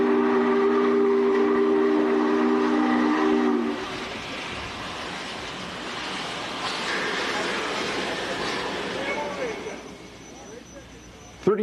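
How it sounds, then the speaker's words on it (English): Union Pacific 3985 Challenger, a huge operating steam locomotive, sounds a long, loud chime whistle for several seconds, then rumbles and hisses at a steadier, quieter level, with talk in the background. "the largest operating steam engine in the world"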